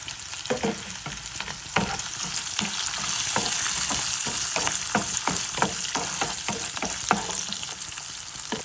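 Dried red chillies and garlic crackle and sizzle in hot oil for a green apple pickle tempering, with a steady close frying hiss broken by repeated sharp spoon clicks against the pan.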